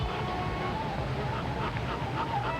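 Dogs yip and whimper excitedly in a 1990 Jerky Treat commercial, the high barks and whines layered over busy music and background sound, fairly close and continuous.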